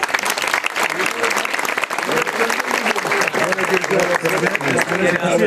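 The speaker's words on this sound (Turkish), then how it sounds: "Her ikisini alkış istiyorum." Loud, dense applause fills the room as a Turkish neighborhood crowd at a handicrafts, clothing and embroidery exhibition honors two people, with a murmur of voices mixed into the sustained clapping.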